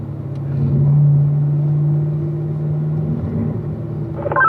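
A car engine droning steadily on the Spring Mountain race track while easing through a corner, a loud close mid-range rumble that holds at one pitch and then swells slightly near the end.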